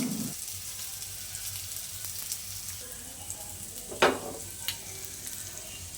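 Prawns sizzle in a shallow pan of oil without deep frying, a soft steady crackle with a few sharper pops and utensil knocks, close and fairly quiet.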